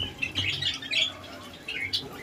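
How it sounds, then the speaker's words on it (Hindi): Pet birds chirp and tweet at night indoors in a quick, busy chorus of bright calls that rises and falls at moderate loudness, with brief pauses and no talking. "अभी वो और ज़्यादा चहचहाट शुरू हो गई है हमारी बर्ड्स की"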